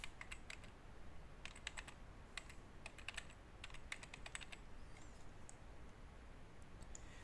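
Keystrokes on a computer keyboard entering watermark text in Adobe Photoshop CC, a quick run of light clicks in bursts with short pauses, close and fairly quiet over a low background hum.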